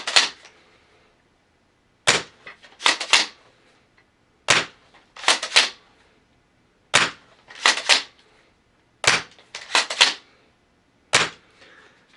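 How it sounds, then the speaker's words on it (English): An S&T M870 full metal airsoft shotgun fires in sharp, close cracks, sometimes single and sometimes in quick pairs or triplets, spaced by short silent gaps with no talking. "Now we'll do some live shooting demonstrations so you guys can get a few different angles as far as what the shotgun looks like when you're firing it."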